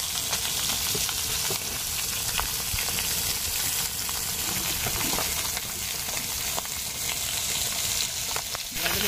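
Fish sizzling and spitting steadily in a hot pan of oil, cooked plain without turmeric, a continuous crackling fry close up with no talk.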